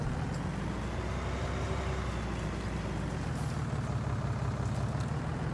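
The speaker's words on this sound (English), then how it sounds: "That's a nice noisy tractor." A loud, noisy tractor engine from the farming game Farming Simulator 19 drones continuously and close up, a steady low rumble with a faint whine above it and no pauses.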